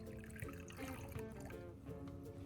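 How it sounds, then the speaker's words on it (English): Water poured into a microwave-safe bowl, a close, continuous trickling and splashing fill lasting a couple of seconds. "Start by pouring enough water into a microwave-safe bowl to fully cover 1 egg."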